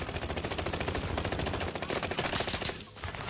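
Video game gunfire from a tower, a dense, continuous rattle of rapid shots heard fairly loud throughout with a brief dip near the end.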